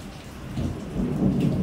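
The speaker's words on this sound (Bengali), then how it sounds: "হ্যাঁ মেঘ ডাকছে, বিদ্যুৎ চমকাচ্ছে" Thunder rolling in a storm, a low deep rumble that swells and lingers, with rain hissing steadily on surfaces nearby.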